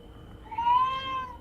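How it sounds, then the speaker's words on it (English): A pet cat lets out a single drawn-out meow, close and clear, rising then fading against a quiet room hum. "Yeah, it's my cat."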